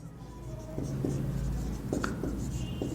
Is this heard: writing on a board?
yes